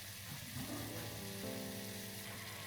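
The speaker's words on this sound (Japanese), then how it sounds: "中火で3分くらい煮るとみりんが濃縮されます。" Mirin simmers in a pot over medium heat, a continuous soft bubbling and sizzling hiss holding steady throughout, fairly close and without speech.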